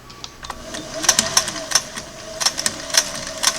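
A restored Singer Model 404 sewing machine runs slowly on a stitch test, a quiet motor hum under a fairly regular series of sharp mechanical clicks and taps from close by.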